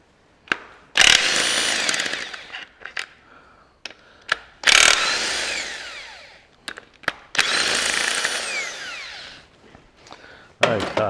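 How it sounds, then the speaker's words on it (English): Old Makita BTW450 1/2-inch drive 18-volt cordless impact wrench working crankshaft bearing cap bolts on a Massey Ferguson 65 tractor, three long loud hammering bursts separated by short clicks and clunks, close up. "My old Makita, this is a 1/2 inch, a BTW 450 Makita, and she seems to have a bit of go, this old 1/2 inch drive one"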